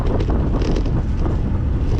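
Loud, steady wind buffeting a microphone while cycling in winter in the Lake District, a continuous low roar with no talking.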